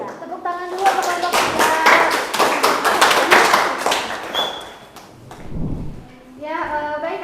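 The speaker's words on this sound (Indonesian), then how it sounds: "tepuk tangan dulu untuk kelompok" A school class claps for a student group after its presentation, a loud burst of many hands lasting a few seconds that fades away, followed by a teacher talking.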